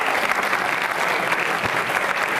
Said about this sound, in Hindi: तालियां बजाइए इन जानकारियों के लिए।